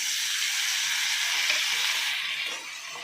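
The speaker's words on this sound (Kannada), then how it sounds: "ಸ್ವಲ್ಪ ಕರಿಬೇವು ಇದೆಲ್ಲ ಸ್ವಲ್ಪ ಫ್ರೈ ಮಾಡ್ಕೊಳ್ಳೋಣ ಇದಕ್ಕೆ ಎರಡು ಟೊಮೊಟೊ ತೊಗೊಂಡಿದ್ದೀನಿ ಅದನ್ನು ಹಾಕ್ಕೊಳ್ತಾ ಇದ್ದೀನಿ" Tomatoes sizzle and fry steadily in a pan with curry leaves, a dense continuous hiss close by that eases slightly near the end, with no talking.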